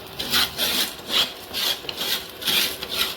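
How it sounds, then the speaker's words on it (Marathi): Salt being dry-roasted in a pan for papad gives a gritty rhythmic scrape with each stir, regular repeated strokes heard up close at moderate volume, with no voices. "मिठाचा आवाज येईपर्यंत तर मम्मी मीठ भाजत आहे"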